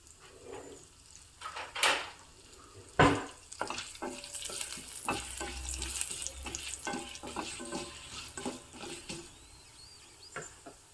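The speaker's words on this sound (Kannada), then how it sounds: "ಒಗ್ಗರಣೆ ಆಗ್ತಾ ಇದೆ." Oil sizzles during a tempering of dry red chili in a village-style kitchen, with sharp crackles and pops, clinks of a utensil, and a soft steady hiss beneath, close and moderately quiet.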